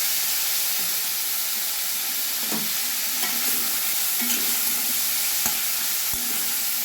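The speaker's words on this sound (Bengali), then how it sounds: "এবার আমি টমেটো দিয়ে দিলাম" Chopped tomatoes frying in a pan of hot oil tempered with cumin, giving a steady sizzle with occasional stirring scrapes and pops, close and alone without talk.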